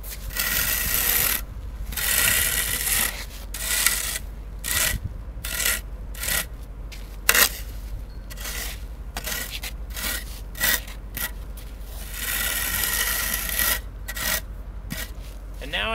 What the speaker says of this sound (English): Now I'm just going to clear this area adjacent to it, scrape off the existing screenings.